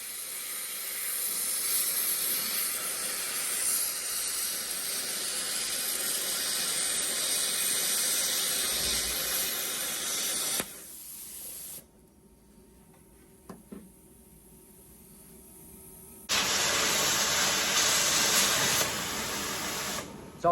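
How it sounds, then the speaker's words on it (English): Grinder cutting into the body of a classic Mustang: a loud, steady, hissing grind that runs continuously, breaks off into near quiet with a few small knocks, then starts again just as harsh and close. "let's get grinding."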